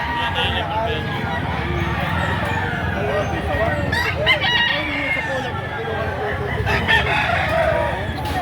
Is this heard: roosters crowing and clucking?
yes